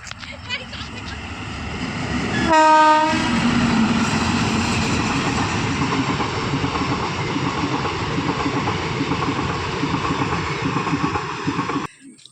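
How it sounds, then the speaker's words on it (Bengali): A train passes along a railway line beside a field, a loud sustained rumble with a brief horn-like tonal burst early on, heard close by with people talking faintly underneath. "ট্রেন আসছে, আমরা রেল লাইনের ধারে আছি।"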